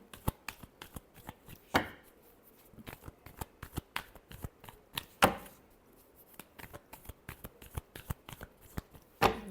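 Tarot cards being shuffled up close in a run of quick, crisp riffling flutters, with a few louder snaps, and no one speaking.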